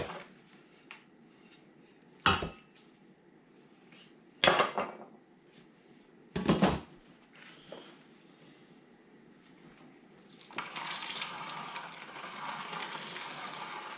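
Chow chow relish being emptied into a cooking pot, with three sharp metallic clanks of utensil against pot a couple of seconds apart in a quiet kitchen, then a steadier scraping rustle near the end.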